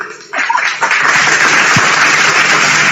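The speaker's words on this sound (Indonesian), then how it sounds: "Tepuk tangan dulu buat abang kita ini." An audience breaks into dense, steady applause at a religious debate event, starting abruptly and holding loud and continuous to the end.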